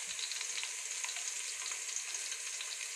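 Roughly crushed garlic sizzles steadily in hot oil in a pan, a continuous bright crackling hiss with no pauses and no voices, for a homemade rice dish.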